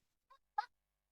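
A human voice imitates a chicken clucking, two short squawky cluck-like bursts, the second louder, in near silence.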